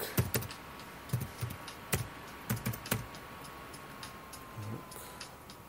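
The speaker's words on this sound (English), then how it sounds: "Let's type in Facebook." Keys clatter on a computer keyboard in quick, uneven bursts of close, crisp clicks, then thin out into a few scattered taps. Nobody speaks.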